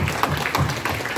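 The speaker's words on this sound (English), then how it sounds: "Let's give a big clap for Indian currency." An audience clapping at a talk, a short burst of close, fairly loud hand claps with uneven rhythm.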